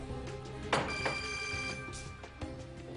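A telephone rings on a Turkish television talk show, its repeating electronic bell tones heard moderately near with brief audience noise bursts around it, and no talk.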